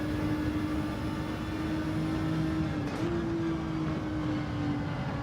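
GR4 race car in Gran Turismo 7 holding a steady, droning engine note at high revs, loud and continuous, with a brief pitch shift partway through as it changes gear.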